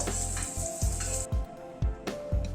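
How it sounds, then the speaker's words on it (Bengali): Bitter gourd fries in a pan with salt and turmeric. A soft sizzle runs underneath, broken by a series of low rhythmic scraping thuds from stirring, with no talk. "নুন হলুদ দিয়ে উচ্ছেটাকে ভেজে নিচ্ছি।"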